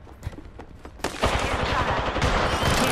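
Gunfire in Apex Legends starts with a few scattered shots, then erupts into a dense, loud, continuous burst of rapid automatic fire from close by.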